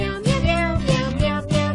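A cat meows repeatedly in a Meow Mix cat food commercial, a run of close, loud, tonal meows in quick succession with no talking.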